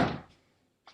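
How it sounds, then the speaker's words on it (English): A door thuds shut at close range, a loud single impact that fades quickly into quiet, with a faint click near the end. "I got to close the door here."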